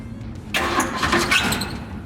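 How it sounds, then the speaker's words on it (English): A 1965 Ford Mustang engine cranks and catches, springing from near silence into a loud rough idle with uneven revving nearby. "you give it gas to start it"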